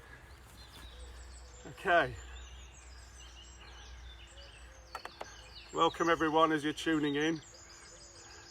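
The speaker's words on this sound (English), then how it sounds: "You can hear the birds behind me." Soft chirps and twittering morning birdsong in the background, faint and scattered, while someone speaks close by in two short bursts.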